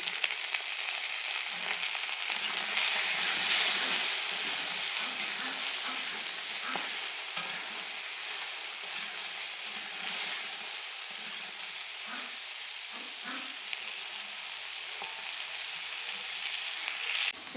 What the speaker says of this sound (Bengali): অল্প করে লবণ আর হলুদ দিয়ে আমি কচুর মিষ্টিগুলোকে ভালো করে ভেজে নেব